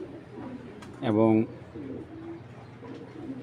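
Original Koopman-bloodline racing pigeon gives a short, close burst of cooing, with someone talking before and after it.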